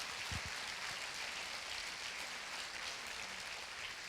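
A church congregation applauds together, a steady dense wash of clapping that fills the whole stretch at an even level with no voices above it.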